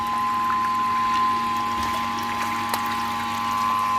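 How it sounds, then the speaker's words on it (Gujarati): Water pours steadily at a village well, a continuous splashing stream with a faint mechanical hum beneath and no talking. "ત્યાં પાણી આવ્યું જઈ લ્યો"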